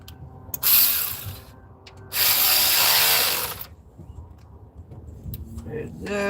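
A ratchet wrench tightens 8mm bolts on a truck, giving two close, loud bursts of rapid clicking separated by a short pause.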